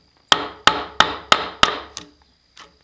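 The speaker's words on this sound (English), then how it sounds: "this is a 2-inch Japanese chisel. I use it just like a slick, and man, it works really nice" A 2-inch Japanese chisel used like a slick is struck and driven into a white pine post while cutting timber frame joinery, giving six sharp, evenly spaced woody knocks close by, then a fainter final tap after a pause.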